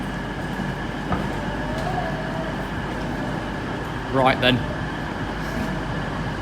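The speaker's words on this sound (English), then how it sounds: "here's a train race, here's a cross-country as well" Trains running through a busy station, East Midlands Railway and CrossCountry services among them, give a steady rumbling roar with a brief higher squeal of wheels or brakes partway through, while someone speaks a few words over it.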